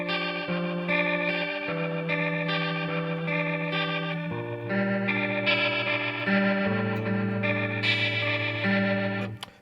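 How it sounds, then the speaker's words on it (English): Guitar through a swirling Leslie rotating-speaker effect from a Line 6 M9 plays sustained, chorused chords and melody, steady and moderately loud with no talking, for a song. "I was using a Leslie speaker sound on my Line 6 M9."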